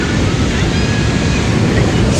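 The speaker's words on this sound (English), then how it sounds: "But we are at the beach," Ocean surf rolls in at a San Diego beach, a continuous loud roar of breaking waves mixed with wind buffeting the microphone, with no talk over it.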